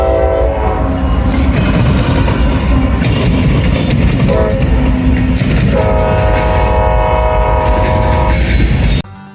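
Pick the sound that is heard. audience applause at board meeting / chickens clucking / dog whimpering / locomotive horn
locomotive horn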